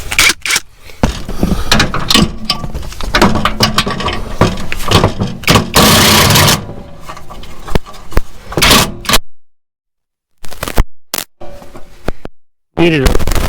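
A hand wrench works loose a broken bracket bolt on a lawn mower, giving repeated metallic ratcheting clicks and clunks with bursts of scraping, a brief silent gap, and some talking throughout.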